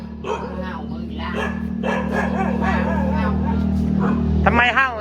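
Dog barking repeatedly at a visitor, short yelping barks mixed with steady nearby talking and a low hum in the background, the barks close and fairly loud.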